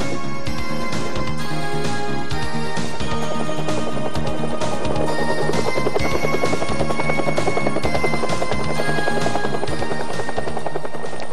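A Canadian Forces military helicopter landing produces a loud, steady rotor and engine roar with regular thumping pulses, constant in level and heard alone without talk.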